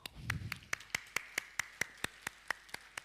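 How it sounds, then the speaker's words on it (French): A small audience at a conference claps in a sparse, evenly spaced rhythm, about a dozen distinct hand claps, fairly quiet and clear, with a faint murmur at the start. "sous vos applaudissements"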